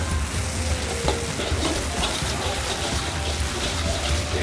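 Garlic and chili stir-fried in a wok for Penang char koay teow give a loud, steady sizzle with continuous scraping and stirring, close and dense throughout, with no pauses.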